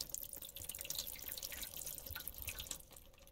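Water runs steadily from a tap in a Roblox horror game set in a grandma's house, a continuous splashing, dripping stream that fills the short stretch without pause.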